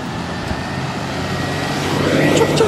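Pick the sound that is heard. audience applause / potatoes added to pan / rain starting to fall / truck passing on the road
truck passing on the road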